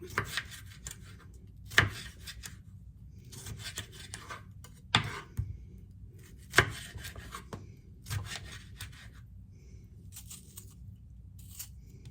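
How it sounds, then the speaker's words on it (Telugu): A knife cuts tomatoes on a board in slow, separate strokes, each a soft close chop or scrape with quiet gaps between. "టమాటోలు ఇలా కట్ చేసుకుందాం"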